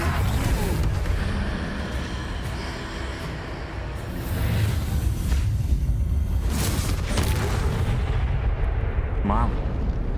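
A Confringo fire spell bursts in Hogwarts Legacy gameplay, with heavy booming blasts and rumbling impacts over a continuous battle din, while a character's voice calls out.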